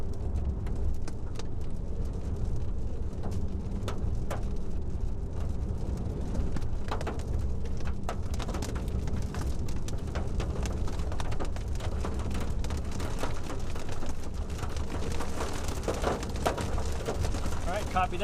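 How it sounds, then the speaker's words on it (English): Heavy rain mixed with hail during an evening thunderstorm makes a dense, continuous hiss with scattered sharp ice impacts, steady and loud, with voices talking intermittently over it. "Getting in some heavy rain now and some good hail."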